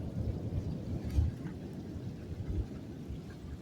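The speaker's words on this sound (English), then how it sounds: "Lightning struck something big. It shook the whole house, right?" Thunder follows a lightning strike during a New Year's Eve storm in Bristol, Connecticut, heard as a low, distant rumble that swells briefly and fades under faint rain.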